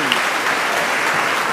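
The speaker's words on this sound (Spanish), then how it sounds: "un aplauso para el doctor" A church audience applauds for the doctor during a priest's talk, a dense, steady burst of many hands clapping at once that holds evenly from start to finish.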